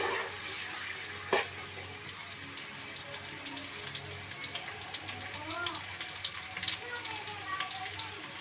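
Onions frying in oil in a pan with a continuous sizzle and crackle, plus a sharp clatter early on and faint voices in the background.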